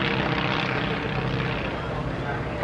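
An aerobatic propeller plane flies a barrel roll at the Southport Air Show, its engine a steady, broad drone that holds constant, with a commentator talking over it.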